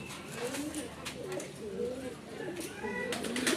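A pair of white king pigeons cooing, soft repeated rolling coos in a steady rhythm, fairly close but quiet over faint background noise.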